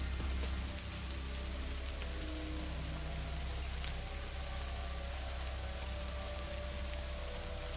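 Steady rain pours down with a dense hiss of drops hitting surfaces, continuous and fairly close, with no voices.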